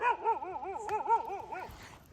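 Dogs give a quick, close run of sharp yelping barks in a steady rhythm for about a second and a half, then the sound trails off.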